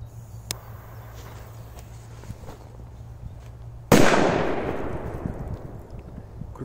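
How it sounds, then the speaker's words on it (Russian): A firecracker goes off at a lake with a single sharp, loud blast that trails off in a long rumbling decay, preceded by a few seconds of quiet outdoor ambience with faint pops. "Мощный взрыв."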